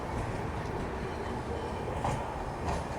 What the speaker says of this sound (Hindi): ये आ गई है हमारी इंदौर मुंबई CSTM दुरंतो एक्सप्रेस